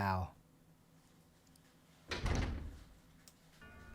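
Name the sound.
door opening in video game Resident Evil 0 HD Remaster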